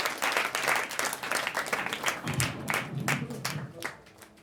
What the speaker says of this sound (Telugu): గట్టిగా చప్పట్లతో వారికి ఆహ్వానం పలికారు